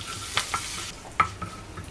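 Cumin seeds and asafoetida are stirred in hot oil in a frying pan, a soft sizzle with a few quick spoon scrapes and clinks against the pan, close and fairly quiet.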